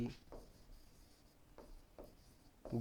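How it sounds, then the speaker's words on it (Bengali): A pen writing on paper, a few soft rubbing strokes in quick bursts, close and quiet. "আচ্ছা লিখি"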